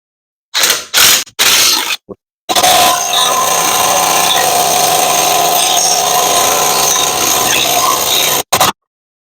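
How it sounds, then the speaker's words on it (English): An impact wrench removing front suspension parts on a 1997 Chevrolet S10 fires in a few short bursts, then runs in one long continuous rattling burst before stopping, with a brief final blip. "This time with the impact on forward."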